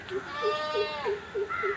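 A black goat bleats in short repeated calls, with one long wavering cry and several brief bleats following at close range, with no speech over it.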